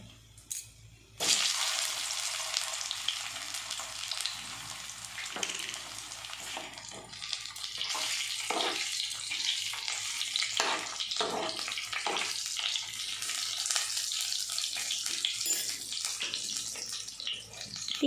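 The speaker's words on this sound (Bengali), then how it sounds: "এবার আলুগুলো ছেড়ে দিচ্ছি।" Potatoes dropped into a hot pan of oil with dried red chilies, bursting into a loud, sustained hiss and sizzle that crackles steadily after a brief quiet start.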